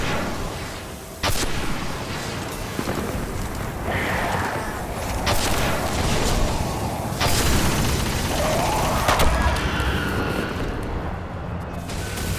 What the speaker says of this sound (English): Grenade going out.